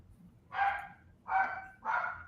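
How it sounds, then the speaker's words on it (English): A dog barks three times in an even rhythm, clear and moderately close, with a faint background hum between barks. "There's a pissed off dog somewhere."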